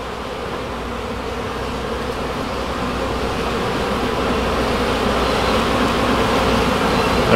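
Honey bees swarming thickly over a hive frame pulled from a trash pile, a steady close buzzing drone that grows slightly louder over several seconds, with no talking.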